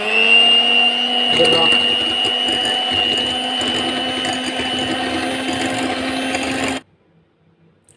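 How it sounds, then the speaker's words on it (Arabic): An electric hand mixer whirs steadily at high speed, beating condensed milk and other pancake batter ingredients in a bowl, with a faint rattle against the bowl, then switches off abruptly near the end; a voice speaks briefly over it. "هبتدي بقى اضربهم بمضرب"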